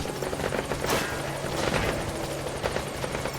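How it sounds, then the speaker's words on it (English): A helicopter in the video game Metal Gear Solid V: The Phantom Pain gives a steady, loud rotor drone with a fast rhythmic chop and a few sharp bursts that sound like gunfire. "Oh, now they notice the helicopter."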